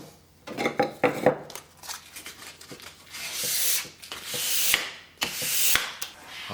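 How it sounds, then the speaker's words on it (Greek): Hand sanding of water-based varnished wood with fine 400 grit sandpaper, producing close, intermittent scratchy rubbing strokes in irregular bursts, some short and some longer sweeps. "Θα πάρω λοιπόν ένα 400 γυαλόχαρτο ή και 500 και θα το χαϊδέψω"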